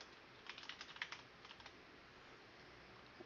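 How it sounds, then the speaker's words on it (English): Rapid bursts of keystrokes on a computer keyboard during an EverQuest Online Adventures game session, fairly close and clear, tapping in a quick uneven run before trailing off into a few scattered presses. "I'll let him kill me while I'm typing out this message."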